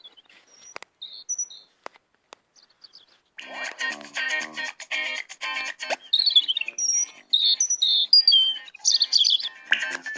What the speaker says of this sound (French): cet oiseau est le rouge-gorge